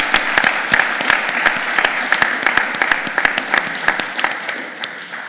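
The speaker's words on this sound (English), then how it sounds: "Let's give the students another round of applause." An audience at a university board meeting gives students a round of applause, dense clapping from many hands that starts strong and gradually thins toward the end, with no voices over it.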